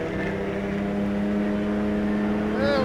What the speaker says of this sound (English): Direct and instantaneous response from the throttle and the little heel and toe blip there while